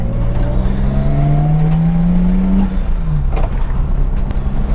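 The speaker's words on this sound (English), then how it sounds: "that blow-off valve sound is just killer" Nissan R32 Skyline drift car engine revving hard with a rising turbo whine, then a sharp drop as the throttle lifts and the blow-off valve vents, loud and close with no talk.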